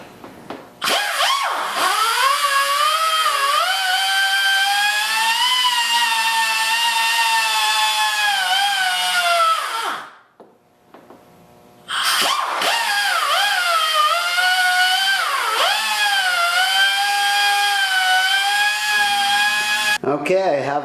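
A high-pitched power tool whines steadily while cutting an opening in a fiberglass go-kart body for the gas cap, running close and loud for about ten seconds, pausing briefly, then cutting again.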